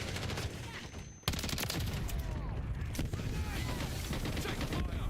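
Rapid automatic gunfire in the multiplayer shooter Call of Duty MWIII, dense bursts of shots packed together and loud throughout, with a brief gap before firing resumes.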